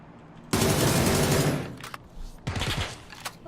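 A Beryl M762 rifle in the PUBG video game fires one loud sustained automatic burst of about a second. After a short pause come a couple of brief, quieter bursts.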